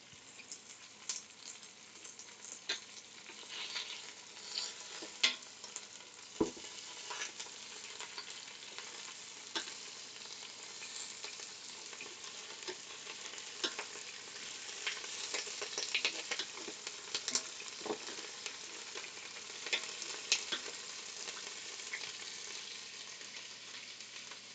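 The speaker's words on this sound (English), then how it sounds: "It's sizzling like crazy." Meat sizzles steadily in a multi-pot cooker, a continuous soft crackling hiss with scattered pops and occasional stirring clicks, close and low in level.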